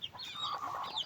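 A one-year-old purebred Gilmore gamefowl hen clucks softly nearby in a short, brief burst of warbling calls.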